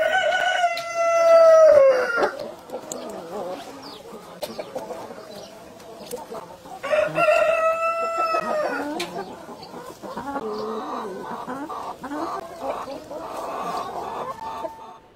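Brahma chickens crow and cluck loudly up close, with two strong crows near the start and middle and steady clucking and farmyard fowl calls filling the gaps.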